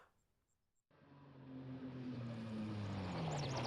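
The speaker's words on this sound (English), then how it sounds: "Who's on a motorcycle?" A motorcycle engine approaches in the Apollo Justice video game, bursting in after a near-silent moment and swelling into a rising, droning whine that grows steadily louder and closer.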